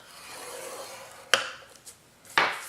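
A scoring tool drags across paper for a gift box, giving soft rubbing scrapes, then two sharp close scrapes spaced about a second apart in a quiet room.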